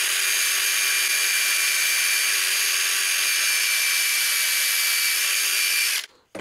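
A drill spins a wire wheel against a rusty Diacro sheet metal finger brake, giving a loud, steady high-pitched whine and rasp. It holds for about six seconds, then winds down abruptly and blips briefly once more.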